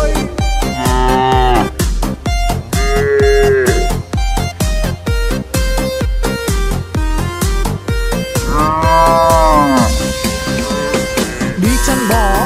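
Drawn-out cow moos rise and fall several times over a loud, bouncy children's song with steady beat and melody, the mooing woven into the music rather than heard alone.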